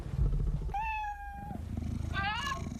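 A cat meows twice in a TV commercial for an apartment listing service, two clear drawn-out cries, the first longer, set over a low background and nearby voices.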